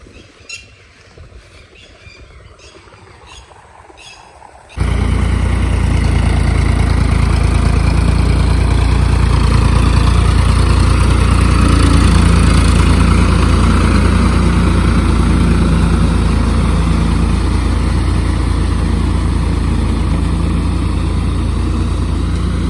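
An irrigation water pump motor on a Punjab rice-paddy farm starts abruptly after a quiet stretch with faint birds, then runs as a loud, steady, close drone without a break.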